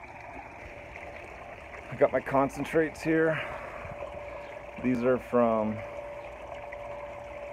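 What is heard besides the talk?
water running through a Keene MiniMax highbanker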